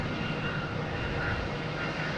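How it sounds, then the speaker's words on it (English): A JetBlue Airbus A320 comes in to land at Boston Logan, its engines a faint, steady distant rumble with a soft whine on top, no voices over it. "All right, here's a JetBlue, an A320"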